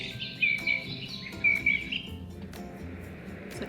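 Two short bursts of high, chirping birdsong repeat, then fade into a soft hiss, played through the small speaker of a Hatch Baby Rest sound machine.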